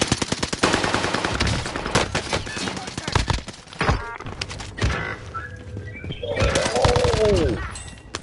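Rapid bursts of gunfire and sharp sniper shots ring out in a Warzone Rebirth Island match, loud and repeated across the clip, with players' voices in the background.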